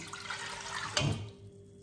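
Water runs briefly and softly from a tap into tomato paste to make a Georgian satsebeli sauce, a short steady stream that fades away within a couple of seconds.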